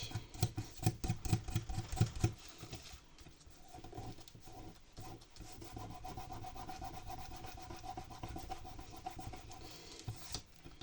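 Eraser rubbing dried glue off paper while making a vintage-textured album, a quick burst of close, rhythmic scrubbing strokes followed by softer, irregular rubbing and faint handling noises.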